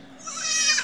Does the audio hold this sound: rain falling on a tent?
no